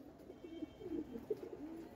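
Pigeons in a loft coo in repeated soft, throaty bursts, several overlapping calls rising and falling close by with no voices.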